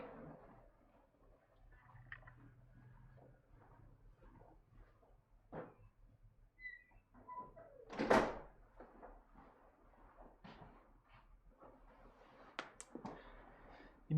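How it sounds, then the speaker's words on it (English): A single sharp door thud comes midway through an otherwise quiet room, with faint scattered bumps and handling noises before and after. "Okay, I'm gonna close the door."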